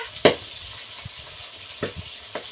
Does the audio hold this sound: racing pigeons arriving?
no